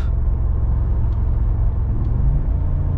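A 2020 Mercedes G63 on the move, its engine a steady, loud low rumble with road noise throughout, no voices.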